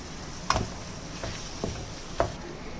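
Chopped tomatoes stirred in a hot pan for shakshuka, with a few scraping spoon strokes spaced apart over a low steady sizzle, close and fairly quiet.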